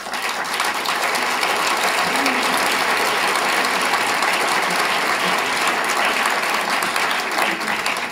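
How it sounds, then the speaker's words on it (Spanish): Sustained applause from an audience at a book launch about the Spanish Civil War in El Viso del Alcor, steady and dense across the whole stretch, with no talk over it. "Un aplauso."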